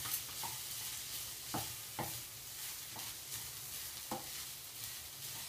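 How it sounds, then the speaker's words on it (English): Lentils being stirred into oil with softened celery and onions for braised lentils, a steady soft sizzle broken by periodic spoon scrapes against the pan, close and without talk. "we're going to add the lentils. Now you want to make sure all the lentils are coated in the oil."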